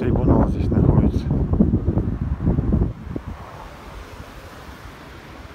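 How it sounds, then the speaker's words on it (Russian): Outdoor wind gusting at a castle, a loud rushing roar buffeting the microphone for the first few seconds before easing to a softer, steady breeze. "Я думаю, слышно, что вот дует ветер."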